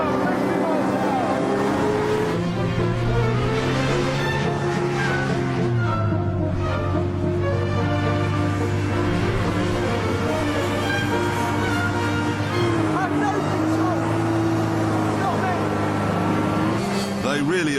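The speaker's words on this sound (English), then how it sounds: "I got a little two-stroke That's about 50 miles an hour." A hovercraft with a small two-stroke engine runs at about 50 mph, a loud, buzzing engine note that rises and falls in pitch as it speeds along, continuous for the whole stretch.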